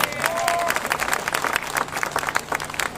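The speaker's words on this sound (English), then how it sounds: "Let's give Jata another big round of applause." Audience claps and applauds at a museum ribbon-cutting ceremony in Washington, DC, dense and lively throughout with a voice briefly audible at the start.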